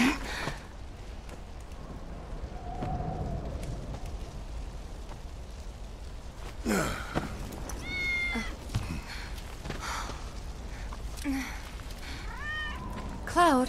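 A cat meows several times in the Final Fantasy 7 Remake video game, with short rising calls scattered over a low, steady game ambience and faint background noise.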